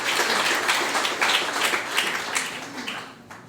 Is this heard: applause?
yes